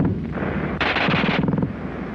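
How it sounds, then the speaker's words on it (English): A German machine gun fires in rapid bursts, a loud, harsh stream of closely spaced shots that swells into a dense roar in the middle and then stutters out, heard alone with no speech. "the German gun fires faster than anything you've run into before"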